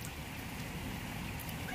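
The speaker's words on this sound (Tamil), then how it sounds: "பார்த்தா திடீர்னு மழை சடனாக வந்து" Sudden rain falling as a dense, steady hiss and patter of drops on surfaces, continuous and fairly loud, with no talk.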